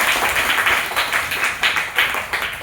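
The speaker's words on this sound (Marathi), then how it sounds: "जोरात टाळ्या वाजवा मयूरसाठी." A classroom audience claps for a participant named Mayur during a quiz about Dr. A. P. J. Abdul Kalam, giving dense, even applause with rhythmic surges, close and lively throughout.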